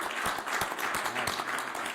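An audience applauds the Speaker at a Republican celebration of a funding bill package, with steady, dense clapping sustained throughout at moderate level.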